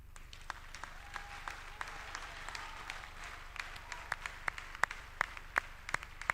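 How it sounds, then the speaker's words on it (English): Applause from an audience at a university convocation ceremony, with scattered distinct hand claps over a soft, fairly distant crowd wash that grows sharper and louder toward the end. "Give your parents a round of applause."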